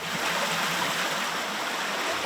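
Muddy, dirty water in a rural mountain creek flows in a steady, loud rushing wash, close by and unbroken, with no voices.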